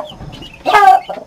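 A guinea fowl hen on a farm gives a short burst of loud raspy clucking calls close by, with quieter chicken sounds around it.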